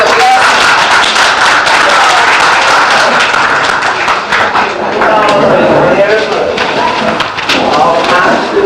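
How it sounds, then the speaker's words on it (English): Loud clapping fills a board meeting as a crowd applauds a woman turning 90, with voices calling out and cheering over the dense applause throughout. "let's give her a round of applause"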